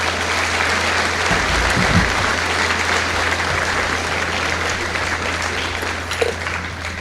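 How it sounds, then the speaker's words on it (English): Sustained applause from an audience at a high school Veterans Day ceremony fills a large room, steady and loud throughout, with a few voices mixed faintly into the clapping. "Now for a round of applause for everyone that has been given their gifts."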